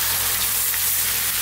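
Chicken curry fries over high heat in a pan, giving off a steady, dense sizzle that fills the short stretch without pause. No one speaks.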